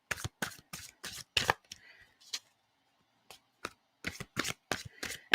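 Texture Tarot cards with stiff cardstock that won't ruffle shuffle, shuffled by hand in bursts of close, crisp riffling and slapping, about a dozen separate bursts with short pauses between them.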